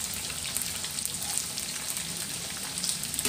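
Sun-dried beef frying in oil over medium heat crackles with a continuous, dense sizzle, close and fairly loud, with no voices or other sounds.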